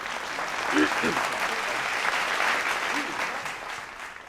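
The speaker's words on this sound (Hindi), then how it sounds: "एक बार तालियां बजा दीजिए, मैं शुरू करूँ।" A crowd claps steadily at a political satire show, the applause continuous and moderately loud throughout, with voices faintly audible beneath it.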